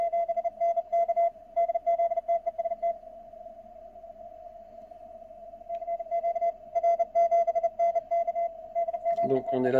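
A steady tone hums through a FlexRadio receiver while faint, choppy voice-like audio flickers on and off, clean with noise reduction and little background hiss, ending in a burst of static.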